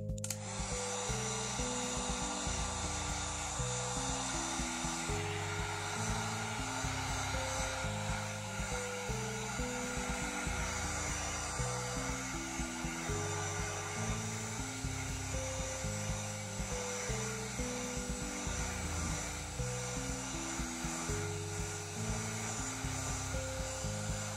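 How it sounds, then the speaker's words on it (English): A heat gun blows hot air over a piece of foam, a steady loud whooshing hiss with a constant motor whine that continues without a break, while a shifting musical backing plays underneath. "take a heat gun, heat it up until it's shiny"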